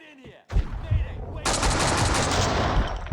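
Rapid gunfire from a gun in Max Payne 2, a short burst of shots followed by a dense, sustained stream of loud firing after a brief pause.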